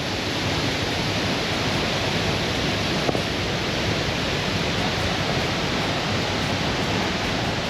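Constant broad rush of water at Looking Glass Falls near Brevard, North Carolina, a steady roar of falling water with no talking.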